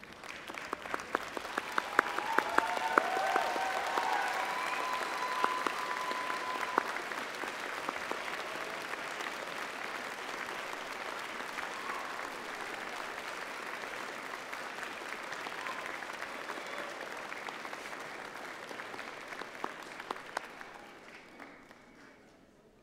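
Graduates and audience at a Faculty of Health and Social Sciences graduation ceremony give a long, sustained round of applause that swells early, holds steady, then tapers off after about twenty seconds.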